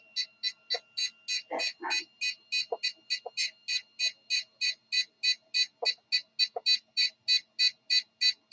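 A battery alarm buzzes in rapid, evenly spaced pulses, loud and close, repeating about three times per second, with a few brief clunks and handling noises in the background.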